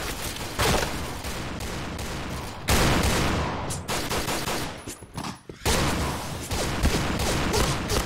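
Gunfire from the online shooter Piercing Blow rattles in loud rapid bursts and fusillades, broken by brief pauses, with no talking.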